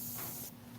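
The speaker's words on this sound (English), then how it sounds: "Because you can spray through" An airbrush sprays Createx paint onto synthetic paper in a short, steady hiss under a faint low hum, the spray shifting slightly in tone halfway through.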